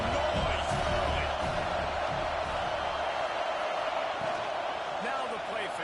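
Stadium crowd noise in a college football video game, a steady loud roar of cheering that fills the whole stretch, with scattered whoops and commentary voices running underneath.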